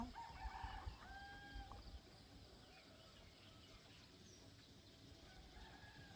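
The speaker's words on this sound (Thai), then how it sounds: "ได้ยินเสียงไก่ขันไหม" A rooster crows faintly in the distance at six in the morning over a steady outdoor hum on a misty rural road trip in Thailand, with a couple of drawn-out calls early on, then quieter ambient noise.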